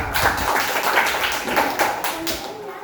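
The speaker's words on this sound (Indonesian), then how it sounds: "tepuk tangan dulu semua" A class of schoolchildren clapping hands together in a classroom, a quick rhythmic patterned clap with several sharp beats, loud and close, with a voice briefly audible.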